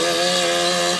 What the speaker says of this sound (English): there's a man with his chainsaw